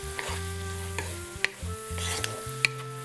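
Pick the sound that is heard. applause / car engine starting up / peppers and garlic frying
peppers and garlic frying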